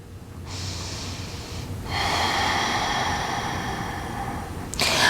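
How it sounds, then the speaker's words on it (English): A deep breath during a beginner yoga pose, heard as a long audible inhale followed by a longer, fuller exhale, close and breathy with no talking. "Take one more breath."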